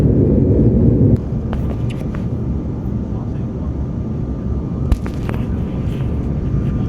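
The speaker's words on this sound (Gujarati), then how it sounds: "હવે પ્લેન લેન્ડ થવાની તૈયારીમાં છે." Airplane cabin on approach to landing, a loud steady engine roar filling the space throughout, heavier for the first second before settling, with a brief click near the end.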